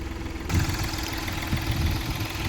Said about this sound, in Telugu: బండి ఇప్పుడైతే స్టార్ట్ అయిందండి